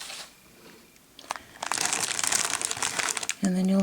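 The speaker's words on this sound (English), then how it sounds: "just cut your little star tinsel" Star tinsel crinkles and rustles as it is cut for a Christmas candy sleigh party favor, a close crackling texture that swells and continues, followed by a voice speaking at the end.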